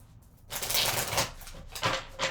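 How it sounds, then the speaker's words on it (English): Playing or tarot-style cards are shuffled close to the microphone in a rapid riffling burst, then a second shorter riffle follows. "Let's do one more shuffle."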